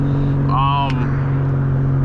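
A Shelby Cobra's engine drones with a steady low hum while cruising, heard up close from inside the car with a brief higher whine partway through.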